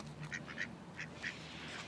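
A duck at a pond in Stoke Park, in winter, gives several short nasal quacks in quick bursts, fairly near, over a low background hum of the park.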